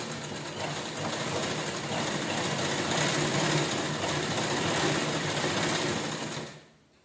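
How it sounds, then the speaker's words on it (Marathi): A sewing machine runs steadily as it stitches all the way around a towel, a loud, continuous mechanical whir close by that stops abruptly at the end. "बघा पूर्ण राऊंड छान असं स्टिच करून घेऊया."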